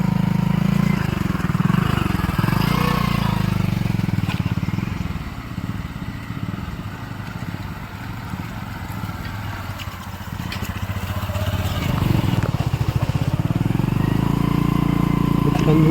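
A motorcycle churns along a muddy road soaked by a morning of rain, its engine loud and steady before dipping around the middle and surging again, with voices talking over it.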